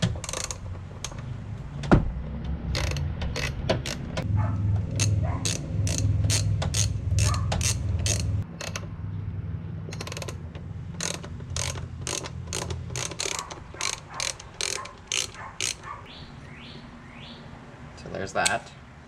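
A ratchet with a small extension turns 10mm bolts on an LE5 intake manifold being installed on an L61 engine, giving long runs of rapid, crisp clicks close by, with pauses and occasional low talk.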